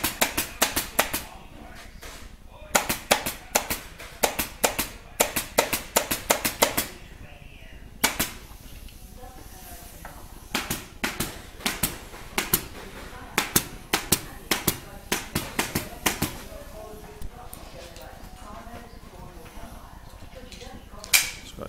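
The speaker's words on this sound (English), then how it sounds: "uses the staple gun to attach the recon blocks in the correct position" Sharp staple gun shots fixing recon blocks onto a Chesterfield sofa frame in an upholstery workshop, quick irregular clusters of crisp snaps with short pauses between them, heard under a narrating voice.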